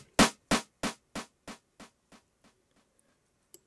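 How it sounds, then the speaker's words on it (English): A single sharp hit fed through FL Studio's Fruity Delay 2 with high feedback, repeating about every third of a second in eight or nine echoes that fade steadily to silence, followed by one faint click. "So you'll hear right now it sounds like this."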